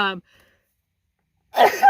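A single sharp sneeze bursts out near the mic after a brief spoken sound and a stretch of silence.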